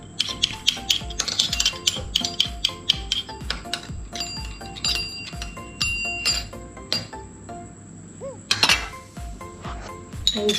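A spoon stirs almond juice in a glass, making quick, bright clinks and taps against the sides in an uneven rhythm that carries on steadily throughout, with no voices.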